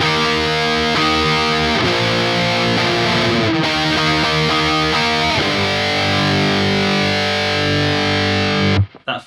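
Heavily distorted electric guitar playing a chord section, loud sustained power chords with shifting changes, continuous and alone before cutting off at the end.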